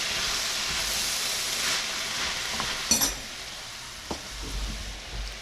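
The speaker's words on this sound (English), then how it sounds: "So this is just sizzling here a little bit." Food sizzles in a pan with a steady hiss, with a couple of brief clinks and stirring scrapes partway through.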